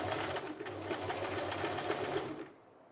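A sewing machine runs a rolled hem on a light fabric for a women's tank top, an even, continuous mechanical whir close by that cuts off near the end.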